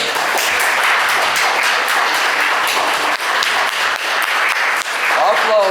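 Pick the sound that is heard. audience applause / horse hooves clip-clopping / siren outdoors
audience applause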